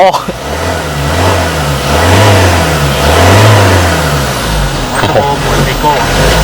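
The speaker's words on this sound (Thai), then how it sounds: "ลองเหยียบดูนะครับผม มาฟังเสียงเครื่องกัน ได้ยินเสียงวิบวิบปะอย่างที่บอกอะเครื่องเทอร์โบ" A 2020 Mazda BT50 Pro 2.2 Hi-Racer turbo diesel pickup revving: the engine swells and falls in a few throttle blips, loud and close, with a brief turbo whistle.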